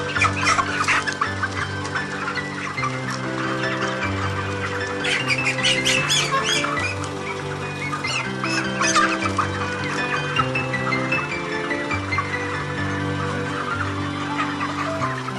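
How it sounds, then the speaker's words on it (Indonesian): Many broiler chickens squawk and cluck loudly in agitated bursts as they are caught, close by, over a steady musical backing. "Setelah itu kita menangkap ayam yang akan ditimbang secara acak."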